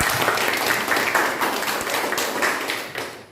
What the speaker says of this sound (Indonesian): tepuk tangan untuk Rahmi dulu